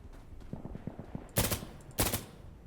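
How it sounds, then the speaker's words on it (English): Gunfire in the video game Insurgency Sandstorm: a rapid burst of muffled automatic shots followed by two loud, sharp blasts, close and punchy, with no talk over it. "Where am I getting shot from?"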